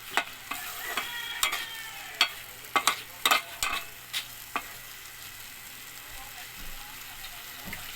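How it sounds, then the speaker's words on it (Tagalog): Fish bagoong sautéed with tomatoes in a pan: a low sizzle beneath frequent sharp spatula clacks and scrapes, busy in the first half and sparser toward the end. "ginisang bagoong na isda"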